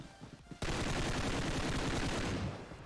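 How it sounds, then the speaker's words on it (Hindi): An M4 rifle in the video game PUBG (BGMI) fires a sustained automatic burst after a brief quiet lead-in. The shots come loud, dense and rapid for about two seconds, with no talking. "इसको मैं M4 का फायर भी देता हूँ"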